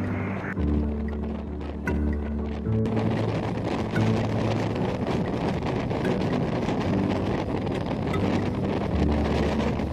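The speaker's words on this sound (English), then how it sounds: "we were sailing in this super speed boat towards the snorkeling location" Steady roaring speedboat engine drone at sea with heavy wind buffeting and rushing water, a continuous loud rumble throughout.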